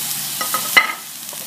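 Soft sizzling of chicken frying in an old Teflon pan, with a few scraping stirs and one sharper clink; quiet and close.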